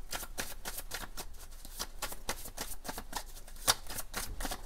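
Oracle feeling cards being shuffled, a rapid rhythmic riffle of card flicks repeating steadily up close, with one sharper snap partway through.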